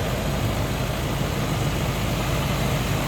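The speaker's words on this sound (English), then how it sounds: "See how smooth that engine runs" A 1985 Cadillac Seville engine idles steadily with a smooth, continuous low rumble and no noticeable changes in pitch or speed.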